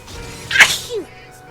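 A single loud sneeze, sharp and close, bursts out and is followed by a short vocal tail.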